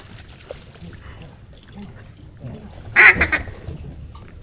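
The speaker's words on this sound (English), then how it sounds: "Kill that duck, kill that duck." Ducks quacking during a duck hunt in a blizzard, a short loud burst of calls near the end over wind noise, with people talking and shouting throughout.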